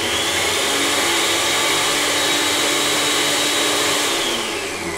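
Sunflower seed paste mixed with a little water churns in a blender at high speed, giving a loud, continuous motor roar that stays steady for the full five seconds with no talking.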